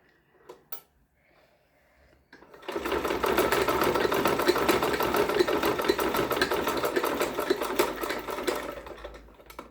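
A sewing machine stitches a school dress, starting after a few soft clicks and then running in a steady, fast, close mechanical whir for several seconds.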